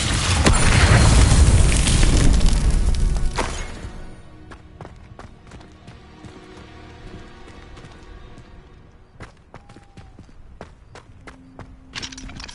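Fiery Incendio and Confringo spells in the Hogwarts Legacy video game open with a loud, sustained roaring blast that fades after a few seconds into quieter game sounds with sharp clicks and footstep-like taps.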